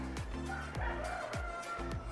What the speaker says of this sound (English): I don't know if you can hear the chickens